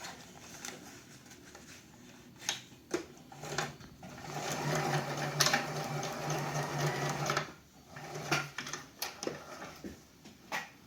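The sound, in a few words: sewing machine stitching an X over Velcro on a beeswax wrap pouch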